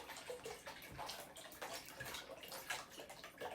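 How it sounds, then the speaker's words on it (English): Water is poured into a pot used for steaming couscous while cooking a Moroccan meal, giving a steady splashing, trickling stream that runs continuously at close range with no one speaking. "So I put some water there, and I'm gonna go and add some broth."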